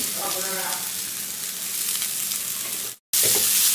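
Cashew nuts frying in ghee, a constant loud sizzle with light stirring that cuts out abruptly for a moment near the end and then resumes, with no talk.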